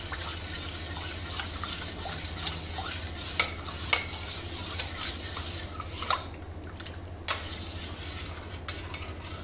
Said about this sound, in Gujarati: અને મલાઈમાં એને સારી રીતે મિક્સ કરી લઈશું.